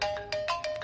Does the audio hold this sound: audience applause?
no